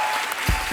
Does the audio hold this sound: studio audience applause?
yes